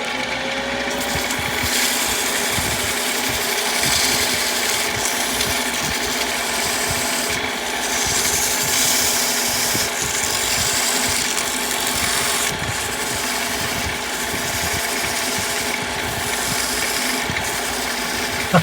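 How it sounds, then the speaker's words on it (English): A ring being sanded by hand after leftover dried adhesive is cleaned from its edge, giving a steady, continuous mechanical whir and grinding hiss close up that holds even throughout, with no speech. "let's keep sanding."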